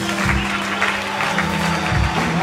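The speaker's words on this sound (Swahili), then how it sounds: "Hebu tumpigie Yesu makofi." A church congregation claps for Jesus, a loud, steady wash of many hands over a low hum, with faint voices mixed in.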